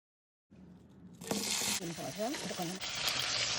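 Chopped onions with salt hit hot oil for chana masala, and a sizzle builds after a moment of silence, then holds steady and close, with a brief voice in the middle.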